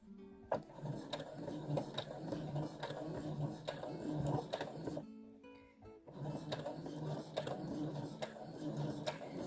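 A sewing machine stitching a seam through fabric, with rapid mechanical whirring and ticking runs that stop briefly midway and then resume, close and steady.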